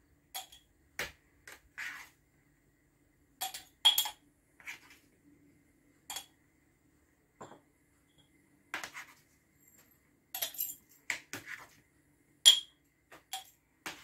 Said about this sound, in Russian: И сейчас ложечкой раскладываем чесночок по банкам